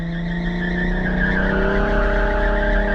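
A car held at high revs while drifting, engine droning steadily loud with a wavering pitch and tire squeal, no talk.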